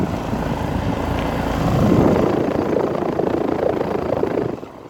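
A 2013 Rheem Value 3-ton air conditioner with a scroll compressor runs in cool mode, giving a loud, steady, close-up whoosh and rumble of fan and compressor that swells slightly midway and stays continuous.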